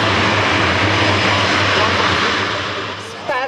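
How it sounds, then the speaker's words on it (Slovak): C-27J Spartan tactical transport aircraft engines, a loud, steady, broad roar with a low hum beneath that eases slightly toward the end, heard close; a voice is audible under the engine noise. "Spartan je naozaj moderné a efektívne taktické transportné lietadlo"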